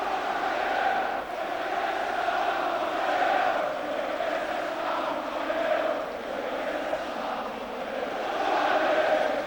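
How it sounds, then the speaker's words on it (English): Tottenham Hotspur fans applauding at Wembley in 1993, a large stadium crowd producing a broad sustained roar of clapping and cheering that rises and falls over several seconds. "Generous applause by the Tottenham Hotspur fans."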